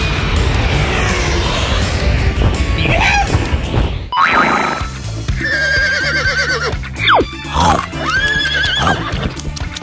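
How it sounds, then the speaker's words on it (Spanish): A horse neighs and whinnies several times, loud and close, with cartoonish boings and knocking effects between calls and faint voices in places. "¡Caballo!"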